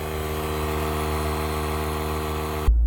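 A Subaru Outback engine runs steadily at idle with a constant low hum, then cuts off abruptly near the end.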